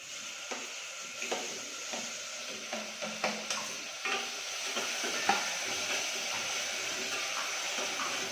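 Onions go into hot butter with cumin seeds for pav bhaji, giving a moderate sizzle with a series of spatula taps and stirring scrapes at irregular intervals, which settles into a steady fry.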